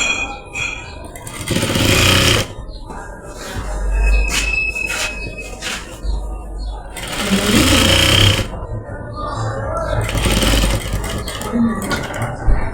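A sewing machine stitches a pocket onto a shalwar in bursts of steady mechanical whirring that stop and restart, loud and close, with a voice speaking in the pauses.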